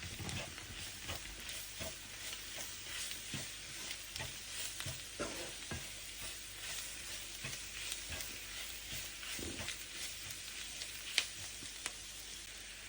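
Spring onion stems and chillies sauté in a pan with a soft continuous sizzle, broken by repeated scraping and tapping strokes of a spatula stirring throughout.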